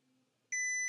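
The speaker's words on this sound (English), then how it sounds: "you hear when we put these together, it will beep" A multimeter's loud, steady continuity-test beep starts partway through and holds without a break after a quiet stretch.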